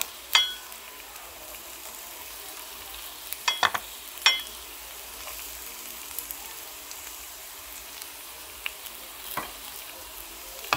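Garlic frying in a little hot oil in a pan for Filipino sisig, a soft steady sizzle throughout with a few louder crackles and clinks near the start and middle, no talking.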